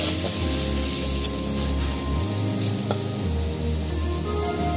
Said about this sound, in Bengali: এবার আমি পেঁয়াজ ছেড়ে দিচ্ছি।